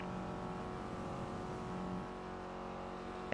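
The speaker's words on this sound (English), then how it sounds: "You just love listening to your car rattle as you go down the highway." Car cruising down a highway, a steady low road-and-engine drone with faint rattling throughout, close and continuous, no talk.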